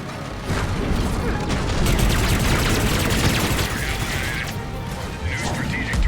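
Rapid gunfire and clattering mechanical bursts from a Mass Effect 3 multiplayer firefight, dense and continuous at close range, with voices talking over the shooting.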